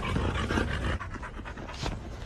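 A dog panting close by in rapid, breathy bursts, heavy at first and then easing into softer, uneven gasps.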